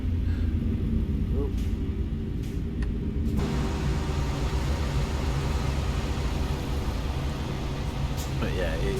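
A 1970s movie truck driven in American Truck Simulator, its engine a deep, continuous low rumble that runs steadily throughout with a faint higher whine on top.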